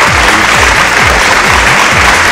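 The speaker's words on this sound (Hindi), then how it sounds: "जोरदार तालियों के साथ स्वागत" A stage audience at a Bhojpuri singing competition grand finale claps loudly and continuously to welcome singers, dense applause that stays even from start to finish, with a rhythmic low thumping beneath it.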